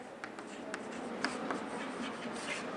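Action keys are written on a board in a coaching class, heard as faint, continuous scratchy strokes with small taps against a steady room hiss.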